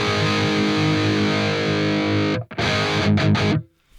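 Electric guitar chords through a Neural DSP Archetype Gojira crunch tone ring out loud and sustained, then break into short choppy strums with brief gaps before stopping into silence.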